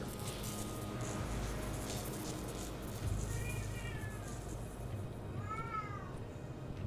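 A cat meows twice in the video game Werewolf The Apocalypse Earthblood, two drawn-out rising-falling cries a couple of seconds apart over a constant dense ambient rumble.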